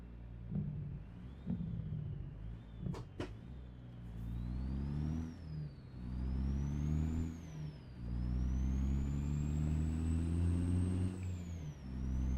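A heavy-haul truck engine in American Truck Simulator, pulling a 97K load, drones steadily and climbs in pitch as it accelerates at half throttle, with a brief clatter early on.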